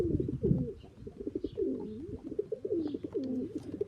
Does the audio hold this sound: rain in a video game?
no